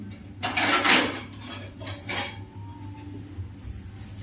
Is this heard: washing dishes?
yes